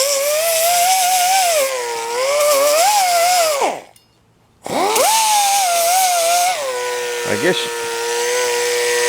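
A pneumatic whiz wheel cutoff tool driven by an airline, used while making sawmill parts, whines at a high, wavering pitch, cuts out briefly midway, then spins back up; someone talks over it.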